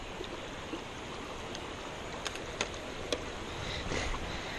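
Creek water flowing steadily, a broadband wash at moderate level with a few small splashes, with no talk.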